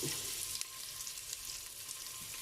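Beef pares ingredients fry in a pan, giving a continuous close sizzle with soft bubbling crackles, steady and unbroken for the whole short stretch.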